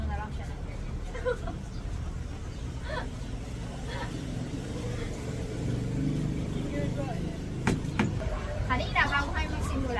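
Steady road traffic rumbles through the whole stretch, cars passing close by in a continuous low wash with a few brief louder moments near the end, while people chat in the background.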